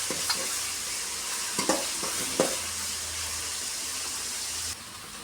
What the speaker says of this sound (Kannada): ಈರುಳ್ಳಿ 1/4 ಭಾಗ ಫ್ರೈ ಆಗಿದೆ.